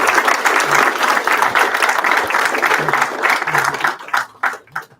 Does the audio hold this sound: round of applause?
yes